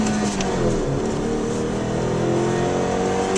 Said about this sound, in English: if you put your foot down, we'll just pull out of this junction here, give it one more rev again